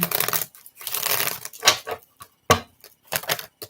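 Crisp riffling and slapping of tarot cards being shuffled in several quick bursts, close by, with short pauses between shuffles.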